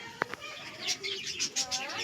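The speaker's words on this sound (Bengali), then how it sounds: "দেখো একদম লাইন দিয়ে উঠছে 5টা পায়রা" Five pigeons taking off together in a line, with bursts of wing flapping and a few soft coos and chirps over faint outdoor background, moderately close.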